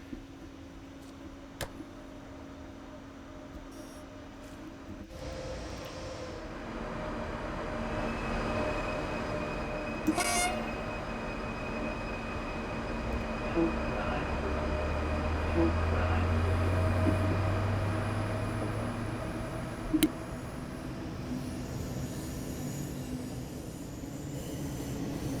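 A DB BR 401 ICE 1 high-speed train accelerates in Train Sim World, a continuous rolling hum and rising motor whine with occasional clunks and clicks, steady and fairly quiet throughout.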